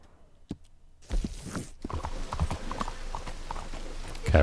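Hooves of a horse in the video game Red Dead Redemption 2 clip-clop in a steady walking rhythm, starting faint and growing clearer and closer, with no talking over them.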